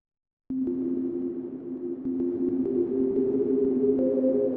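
A synth patch from Ableton Operator drenched in reverb and delay ambience: sustained droning tones that shift pitch and blur together into a loud, continuous wash, with no voices.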